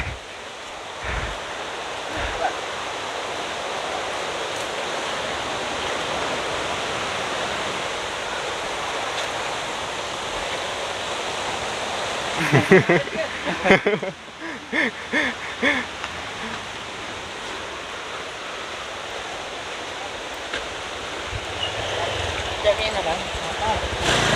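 River stream flowing along a clear-water nature trail near Cadas Ngampar, Cibadak, Sukamakmur, Bogor, a steady rushing wash throughout with brief movement noises midway.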